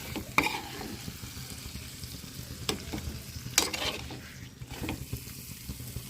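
Stuffed masala brinjal curry is stirred in its gravy in a pan, with a soft continuous sizzle broken by scattered scraping and clinking strokes of a utensil against the pot.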